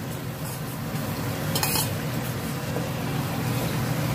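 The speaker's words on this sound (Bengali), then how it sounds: "এবার আলু আর চিংড়ি মাছটা আমি এখন এর মধ্যে দিয়ে দেব। এবার একটু নাড়বো" A spoon scrapes and stirs jackfruit curry with potato and prawns in a pan, a soft, steady clatter over a low kitchen rumble and gentle sizzle.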